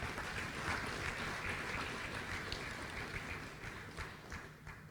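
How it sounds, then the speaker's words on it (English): Audience applause at a birthday celebration event, a dense continuous patter of clapping hands that fades slightly toward the end. "Another round of applause for him"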